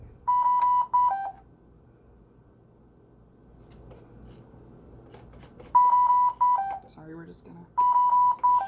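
A Dräger ventilator alarm sounds in steady repeated beep bursts with short tonal chirps, loud and close, in several groups separated by quieter stretches where people talk.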